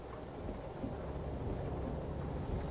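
Steady low rumble of rain and thunder-like wash in Euro Truck Simulator 2 while driving a truck, an even, constant roar with no distinct drops or voices.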